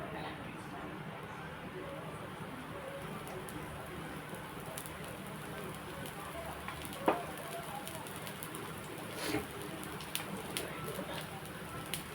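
Oil poured onto a hot dosa pan sizzles steadily at low level, a continuous fine crackling hiss with a few faint pops, while a voice speaks over it.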